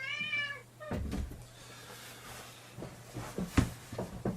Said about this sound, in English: I've got to let the cat in.